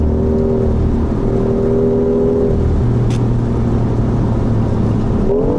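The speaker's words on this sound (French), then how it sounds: "Le moteur électrique donne le boost tout de suite." A BMW i8 hybrid sports car's engine hums steadily and then shifts tone as it accelerates with electric-motor boost, close and loud, with a brief whoosh partway through.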